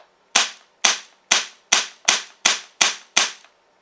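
A homemade HPA-powered SR-25 airsoft rifle fires eight crisp semi-auto shots in a steady rhythm, each a sharp, close snap with a quick decay and no talking.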